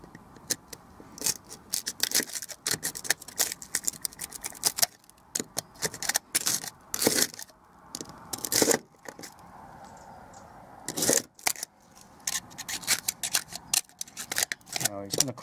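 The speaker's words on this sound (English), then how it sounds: "Using a blade, you've got to be careful and cut into the rot." A blade cuts and picks rotten wood out of a window frame, producing close, irregular bursts of scraping and crisp snipping clicks at an uneven rhythm, with quiet gaps between.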